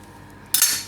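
A spoon strikes and scrapes a bowl once, a bright clatter after near silence, while jamun seeds are mixed with salt, turmeric and lemon juice.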